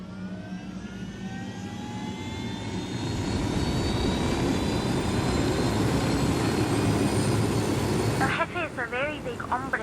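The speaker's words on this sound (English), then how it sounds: "Let's take your helicopter." A helicopter engine in the Ghost Recon Wildlands video game spools up into a loud, steady roar with rising turbine whine, then voices begin talking over it near the end.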